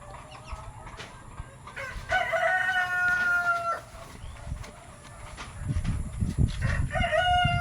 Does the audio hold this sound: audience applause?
no